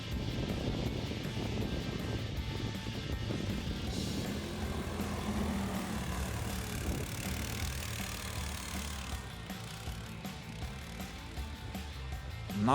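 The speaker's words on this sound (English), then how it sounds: "And one more Leader Sigma with 8 HP engine." A Leader Sigma motorsled with an 8 HP engine runs at a winter DIY sled race, giving a steady, loud, rough engine drone that holds throughout with no break.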